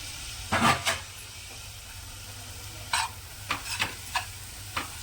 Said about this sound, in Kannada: ಚೆನ್ನಾಗಿ ಫ್ರೈ ಹಾಕಬೇಕು. ಟೊಮೊಟೊ ಫ್ರೈ ಆಗಬೇಕು.